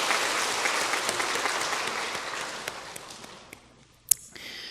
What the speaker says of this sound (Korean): 오래간만에 박수 한번 쳐드리셨으면 좋겠습니다.